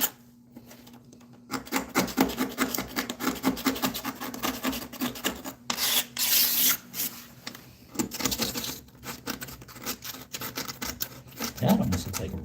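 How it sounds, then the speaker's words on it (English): Old caulk and grime are scraped off a bathtub by hand, with repeated rough scratching and rasping strokes in uneven bursts, close and moderately loud, broken by a few brief pauses. "Trying to get all this crud off."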